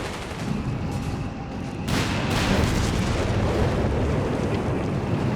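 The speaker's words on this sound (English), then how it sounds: "British artillery trying to mess with the German build-up here" British artillery barrage in the World War II strategy game Company of Heroes 3, rumbling booms that swell into a sustained heavy roar of shellfire.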